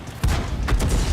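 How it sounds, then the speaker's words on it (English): Artillery shell fires and strikes in the tank game World of Tanks, giving a sudden loud boom, then a second heavy blast and a rumbling low tail. "Our artillery lands a shot"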